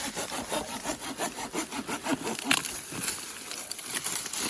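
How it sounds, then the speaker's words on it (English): Hand saw cutting through branches while pruning a fruit tree, rhythmic back-and-forth rasping strokes close by, about a dozen even strokes with faint birdsong in the background. "So I got to trim off some of this stuff."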